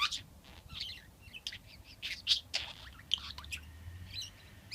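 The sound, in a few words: pet budgie chirping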